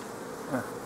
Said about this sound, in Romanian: Ce forță are o albinuță?